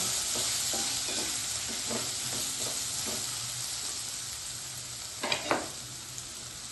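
A bitter gourd stir-fry sizzles steadily in a pan over low gas, with soft rhythmic stirring strokes and a couple of louder scrapes near the end.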